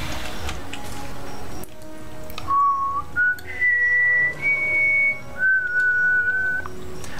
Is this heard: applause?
no